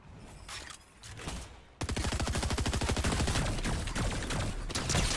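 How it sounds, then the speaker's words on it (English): Enemy gunfire in a video game: after a quieter opening with scattered shots, a dense, rapid fusillade of automatic fire erupts and continues loud and unbroken to the end. "We got other people shooting at us."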